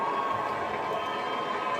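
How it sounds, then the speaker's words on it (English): Crowd at an evening event shouting and clapping for a former president of Nigeria as guest of honour, a dense, steady roar of many voices heard at close range. "And they're all shouting, clapping as well."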